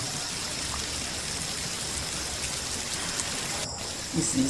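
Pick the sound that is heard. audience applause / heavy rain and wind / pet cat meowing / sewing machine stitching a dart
heavy rain and wind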